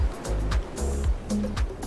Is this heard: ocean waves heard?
yes